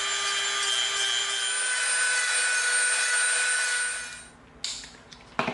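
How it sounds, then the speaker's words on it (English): A Dremel rotary tool cuts EVA foam for a Lego-style blaster prop, producing a steady high-pitched whine with a grinding edge that holds for several seconds, then stops, leaving a few brief handling clicks. "now we're going to come in with our Dremel"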